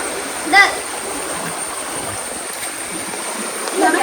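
A small village stream flows with a steady broadband rush of water, close by, with a brief splash early on and a voice faintly in the background.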